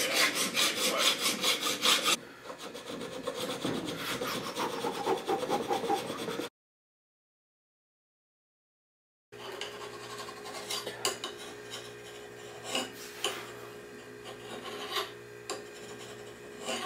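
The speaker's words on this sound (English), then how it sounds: "using files to clean it up more thoroughly and give the knife its bevels" Hand files rasp along a steel knife blade to clean it up and shape its bevels: close, rhythmic back-and-forth strokes that stop for a few seconds of silence, then resume with sharper scraping.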